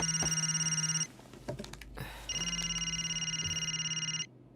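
Indoor telephone ringing in two long electronic tonal bursts separated by a short gap filled with clicks and handling sounds, close and steady.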